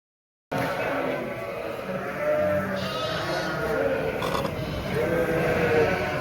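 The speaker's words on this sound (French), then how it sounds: "On va aller voir les petits agneaux, là." Sheep and young lambs bleat on a farm, several calls rising over a steady outdoor background while people talk nearby.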